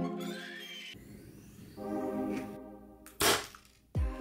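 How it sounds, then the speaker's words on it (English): A mini desktop weapon cooled with dry ice fires ice projectiles, giving two sharp, loud cracks close by near the end, with quieter mechanical noise before them. "After a few shots into the ballistics gel"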